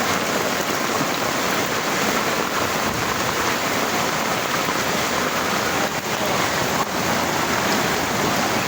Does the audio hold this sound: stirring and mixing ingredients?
no